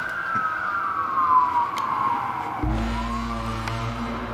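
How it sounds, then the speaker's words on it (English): A siren wails faintly in the distance, its pitch sliding downward as it passes, then a low vehicle rumble swells in. "to see lights and sirens go past you"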